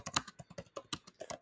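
Fingers type a chatbot prompt on a computer keyboard, producing a quick, uneven run of soft, close key clicks with no voices.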